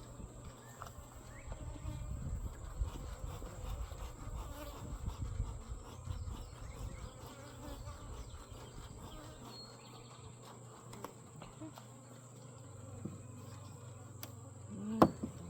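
Honey bees in an opened medium hive super, a continuous low buzzing swarm with individual bees droning past the microphone, close and steady, plus a few faint clicks of frame handling.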